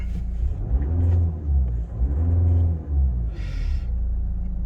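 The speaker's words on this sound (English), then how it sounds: "Now let's give the car a quick rev, just so as we can have a listen to it." A 2008 Audi A4 2.0 TDI 143PS diesel is revved twice while stationary, the engine rising and falling in two smooth swells over a steady low idle rumble, close and loud, with no voices.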